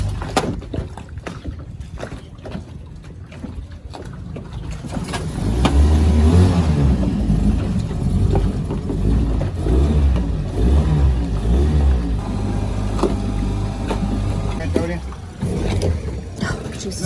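A catamaran's engine, unused for five months, cranks and catches, then settles into a steady low rumble, with people talking nearby over the running motor.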